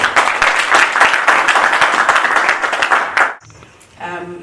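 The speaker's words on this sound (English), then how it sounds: "Can you please give her another round of applause?" An audience at the Simunye Cup 2018 draw gives Ms. Joyce Gianni a loud, dense round of applause that ends abruptly, followed by a short electronic tone and faint sound.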